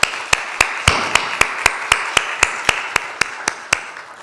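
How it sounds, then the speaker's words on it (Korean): A church congregation applauds together during a Korean Sunday worship service: a steady wash of many hands clapping, with a regular sharp beat cutting through roughly every quarter second, moderately loud and without voices. "이들을 위해서 한번 감사의 박수를 한번 하겠습니다"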